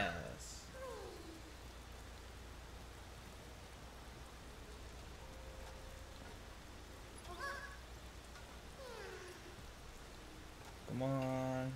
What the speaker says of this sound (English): Like rain even harder?